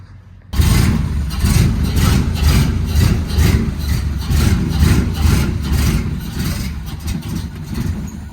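A cold Saab car engine runs steadily as the car rolls slowly off a trailer in snow, a loud, close, continuous low rumble that starts abruptly and holds on without talk.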